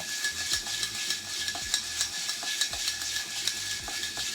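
Stirring an Old Fashioned cocktail with a bar spoon, rhythmic clinks and scrapes of ice in a glass repeating roughly twice a second, close and clear with no talk.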